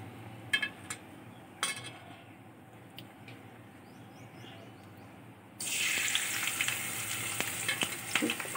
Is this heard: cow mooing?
no